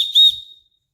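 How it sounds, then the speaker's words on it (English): One short, shrill blast from the whistle on a Leatherman Signal multi-tool, close and loud, quickly fading to silence. "And then it's also got a whistle"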